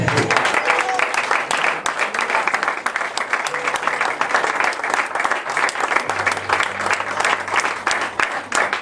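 A church congregation applauds continuously during a sermon, dense sustained clapping filling the room with some voices and shouts mixed in.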